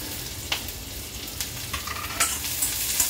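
Chopped ginger, garlic and onion frying in oil in a pan, a soft continuous sizzle with occasional spatula stirs and scrapes, close and fairly quiet, no talking.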